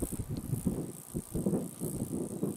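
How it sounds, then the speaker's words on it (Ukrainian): Steady, blustery wind roars against the microphone in rough gusts, a continuous low rumble with no voices. "посилення вітру пішло"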